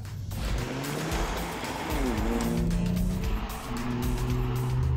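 A 3.7-litre V6 Ford Mustang drives close by, its revs climbing and holding in a steady rumbling drone, with a faint high tire squeal above it.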